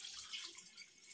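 Supply tap water runs steadily into a kitchen sink during dishwashing, a continuous close hiss and splash with no one talking.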